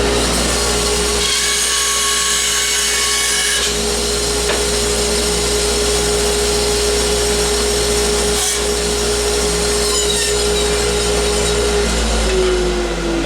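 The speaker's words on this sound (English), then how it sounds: "So we're going to cut these down on the bandsaw" A bandsaw cuts down a scrap wood board in a steady, loud, continuous whine and rasp, with a constant motor hum running through and no pauses.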